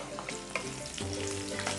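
Curry leaves and green chili pieces fry in hot oil in an Indian Telugu kitchen, giving a dense, bright crackling sizzle with a few sharper pops, close and steady for a brief moment.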